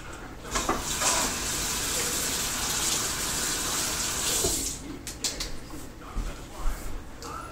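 A tap runs in a steady, gushing stream as a wooden bow part is rinsed beneath it, then cuts off and gives way to scattered drips, knocks and handling sounds.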